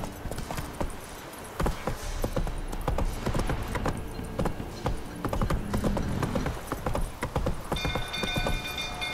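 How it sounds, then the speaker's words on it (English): Horse hooves clip-clop in The Witcher 3 video game, a brisk, close run of hoofbeats over a busy game soundscape, with a brief whinny and some faint background voices. "Whoa there, Roach!"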